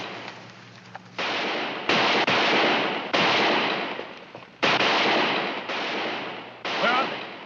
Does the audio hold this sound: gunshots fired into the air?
yes